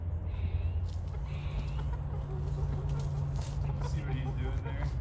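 Chickens cluck softly in the background of a farm setting near a run, under steady low hum and a person talking over them.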